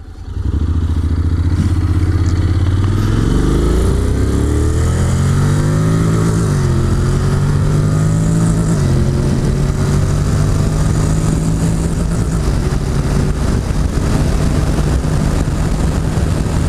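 Honda X-ADV scooter pulling away and accelerating along a straight, its engine note rising steadily and smoothly, loud and close, with wind noise throughout.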